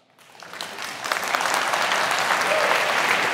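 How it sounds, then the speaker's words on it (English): Attendees at the All-In Summit 2024 business conference applaud during a session on Adyen. The clapping swells from a few scattered hands into a steady, dense round that holds to the end. "We applaud for EBITDA margin."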